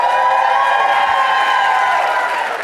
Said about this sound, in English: Can we give our videographer and photographer a round of applause for really doing all the work right?